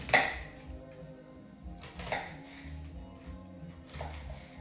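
Onions sliced with a knife on a cutting board for an onion tart, giving a few crisp, evenly spaced chopping strokes close by, with soft crunching between the cuts and no talking.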